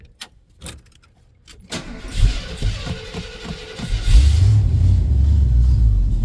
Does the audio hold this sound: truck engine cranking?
yes